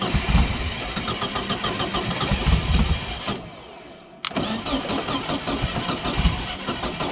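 A VW-engined sand rail cranks and fires up, its engine running rough and loud, cutting out briefly, then catching again and revving unevenly while still cold.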